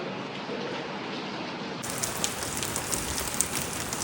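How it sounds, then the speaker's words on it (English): Steady monsoon rain falls in Goa, a dense continuous hiss with scattered louder drips and splashes, growing fuller partway through and carrying on without pause. "It's raining!"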